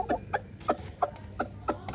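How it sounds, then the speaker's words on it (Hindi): A desi hen clucks in a quick series of short, close calls, about seven evenly spaced clucks in a row, with no one talking over them. "ये रही हमारी देसी मुर्गी"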